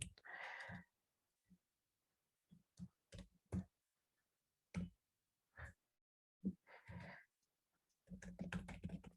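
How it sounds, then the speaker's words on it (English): A computer keyboard being typed on in short irregular bursts of clicks, with separate single keystrokes and a faster run at the end, close and quiet with nothing else heard. "if I go and write cmd here and type something"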